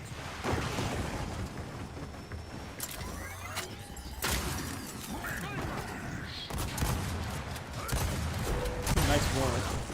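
Gunfire from a weapon in Gears of War 4, a string of dull repeated shots and impacts mixed with explosive game noise, with a voice talking over part of it.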